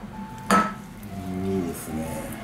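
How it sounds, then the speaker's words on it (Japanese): Chicken rice goes into a clear heat-resistant dish with one sharp clatter of dishware, then softer scraping and clinking as the rice is spread in a quiet kitchen. "この透明皿に入れます"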